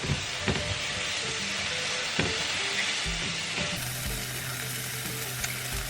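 Mushrooms frying in a pan alongside pork piccata, a steady close sizzle with a few sharp crackles and soft stirring scrapes, growing fuller partway through, with no talking.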